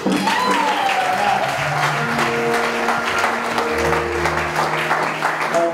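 A wedding congregation applauds and cheers in a sustained, dense wave of clapping that holds steady throughout, with some musical tones underneath.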